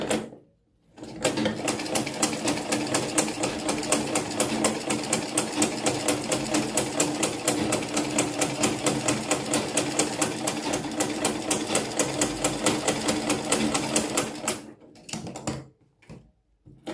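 A Butterfly sewing machine stitches steadily for about thirteen seconds, a fast even mechanical clatter close by, stopping with a few handling knocks afterward.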